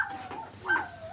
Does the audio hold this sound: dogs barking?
yes